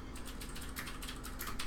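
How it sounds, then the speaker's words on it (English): Rapid keystrokes clatter on a loud computer keyboard somewhere in the background, faint and irregular, with quick clusters of clicks and no voices. "sorry for the loud typing in the background"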